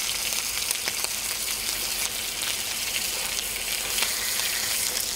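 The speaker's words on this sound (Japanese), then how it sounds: "この丸フライパンを、そして 全部の側を焼き色つけます" Steak sears in a round frying pan with a loud, continuous sizzle and crackle, with occasional sharper pops and spits rising out of the steady hiss.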